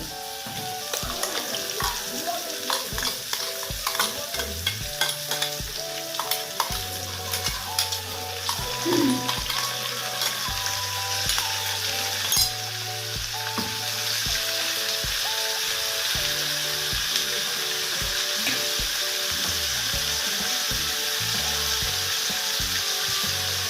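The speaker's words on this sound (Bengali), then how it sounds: "একটু ভাজা ভাজা করে নেব" Ground spice paste for a green jackfruit and prawn curry sizzles softly in a pan while a spoon scrapes and stirs, with intermittent clinks and a low hum throughout; no one speaks.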